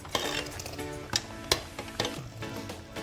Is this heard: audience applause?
no